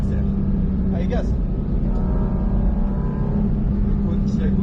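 Porsche GT4 RS accelerating hard on the Mettet circuit, a loud steady engine drone heard from inside the car with an instructor talking over it.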